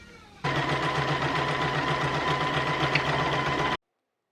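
A sewing machine runs steadily, back stitching a fabric inseam, a close continuous motor hum with a rapid needle rhythm for about three seconds before stopping abruptly.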